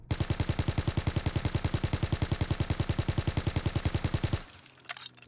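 Sustained automatic gunfire from a weapon fired on the gun range in Call of Duty WWII during a recoil test, a rapid, evenly spaced burst of loud shots lasting about four seconds before cutting off.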